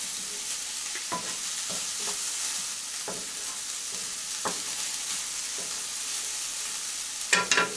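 Onions sauté in a frying pan with a steady, even sizzle throughout, punctuated by scattered light clicks and taps of a utensil and a brief louder clatter near the end.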